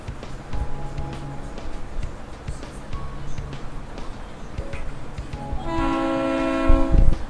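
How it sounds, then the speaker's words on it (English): A freight train rolls across a bridge in Bridge Constructor Trains with a steady rumbling clatter, and sustained horn or whistle tones swell loudly near the end. "let's send across our freight train."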